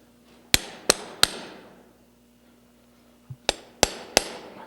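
Hammer blows ring out as nails are driven into a horseshoe while shoeing a horse: three sharp, close strikes in quick succession, a pause, then another quick run of three, each with a bright metallic ring that decays.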